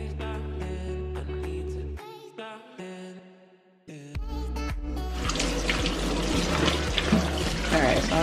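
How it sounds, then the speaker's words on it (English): Diced potatoes are rinsed under running tap water in a kitchen sink, a steady close splashing stream with a brief pause, then a heavier rushing flow. "I'm just rinsing these off before I get them in the pot and all diced up"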